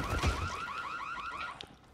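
A car alarm in the zombie video game Dying Light wails with a rapid warbling, repeating rise-and-fall tone for about two seconds, fairly loud and alone before cutting off.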